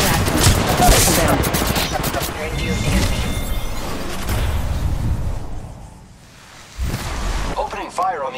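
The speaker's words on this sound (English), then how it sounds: "Opening fire on the enemy." Bursts of gunfire from Apex Legends Mobile rattle in short volleys under game voice callouts, fairly loud, with a brief lull before a final sharp shot.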